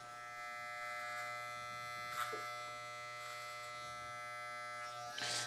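Electric hair clippers cut a boy's hair over a comb, giving a steady close-up buzzing hum with brief rougher bursts as the blades pass through the hair.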